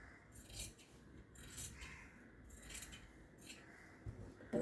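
Scissors cutting fabric for palazzo pants, with quiet repeated snipping and rasping strokes close by that come in irregular bursts over faint room noise.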